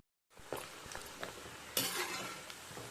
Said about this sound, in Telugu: గోల్డెన్ బ్రౌన్ కలర్ వచ్చే వరకు కూడా ఈ రొయ్యల్ని ఆయిల్లో డీప్ ఫ్రై చేసుకో.